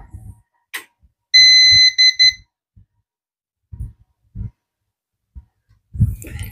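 A UPS unit with a power fault gives a loud, close beeping alarm in a short run of pulsed tones, with scattered knocks and handling sounds before and after.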